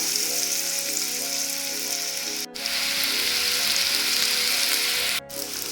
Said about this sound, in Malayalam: ഓയിൽ നന്നായി ചൂടായി വരുമ്പോൾ നമുക്ക് തയ്യാറാക്കി വെച്ച മക്രോണി അതിലേക്ക് കുറച്ചായിട്ട് ഇട്ട് കൊടുക്കാം